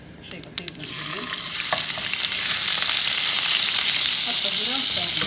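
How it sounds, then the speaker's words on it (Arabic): Garlic and raisins hit hot oil in a pan while cooking dosa filling, giving a few sharp taps and then a loud, steady, close sizzle of frying that builds and holds. "احط الحين ربع ملعقه ثوم مع شيء بسيط من الزبيب"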